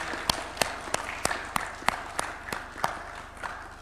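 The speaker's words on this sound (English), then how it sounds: "You can give them a round of applause." Slow, evenly spaced clapping at a Nairobi agreement signing ceremony, about a dozen distinct claps in a steady rhythm over a faint low hum.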